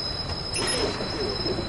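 A Watch Dogs subway train arrives with a steady rumble, high thin wheel squeals and a faint electric whine held under the station ambience.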